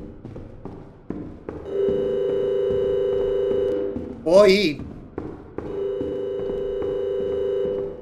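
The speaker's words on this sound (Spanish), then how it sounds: "Ya vuelve a sonar el teléfono." A steady electronic telephone ring sounds in the horror game Hotel Dream, long sustained tones broken by short gaps, with a brief voice in the middle and soft footsteps or thumps in the background.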